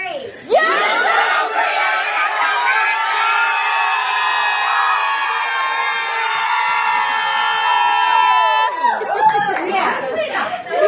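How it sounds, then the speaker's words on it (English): A large crowd at the YouTube Creator Collective event yells a phrase together on cue, a loud sustained unison shout lasting several seconds before breaking off into scattered cheers and chatter. "I want you to yell YouTube Creator Collective as loud as you can"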